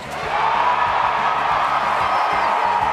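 A student crowd in a campus gym before a nationally televised college basketball game, a steady, loud wash of cheering and whooping that holds throughout, with a rhythmic low pulse of music or chanting beneath.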